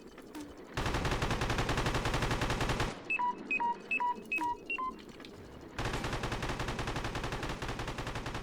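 Grenade launcher in the video game Pigface firing at a turret: dense bursts of rapid, loud gunfire-like blasts, broken by a stretch of short repeated electronic beeps, then the heavy barrage resumes.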